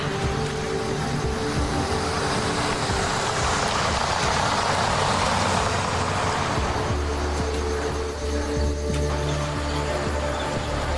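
Vehicle engine running on a road through Gir Forest where lions roam, a continuous loud rumbling drone with shifting pitch and a deeper low hum settling in toward the end, no speech.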